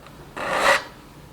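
One stroke of a file rasps across a chainsaw chain tooth to bring it to the factory angle, a short, close scraping sound lasting under half a second in a quiet space.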